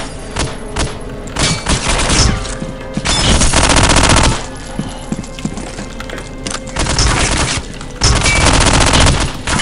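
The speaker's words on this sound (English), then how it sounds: "Getting shot at? Who's shooting?" Gunfire in the shooter game Soldier of Fortune 2, loud sustained bursts of automatic fire in long rattling volleys separated by brief lulls, with no talking.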